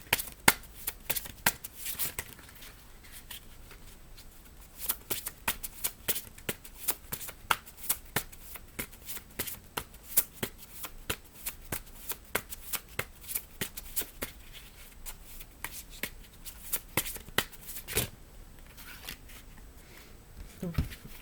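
Cards being shuffled for a card reading, close and quiet: repeated crisp riffling and flicking bursts in irregular bunches, with brief pauses between.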